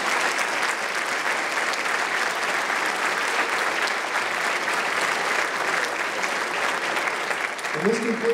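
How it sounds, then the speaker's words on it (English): Sustained applause from the audience at a high school honors night for the honorees, a steady dense wash of clapping throughout, with a voice briefly starting to speak near the end. "Let's give another round of applause to these honorees tonight"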